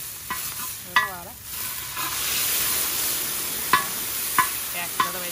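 Rotisserie chicken and a little water sizzling and frying in a pan while being stirred, a steady hiss with a few sharp scraping clinks of the utensil against the pan.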